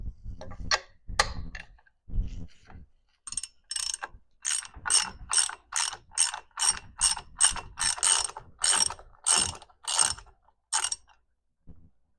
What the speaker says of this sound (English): removing the old propeller with a 17 millimeter deep socket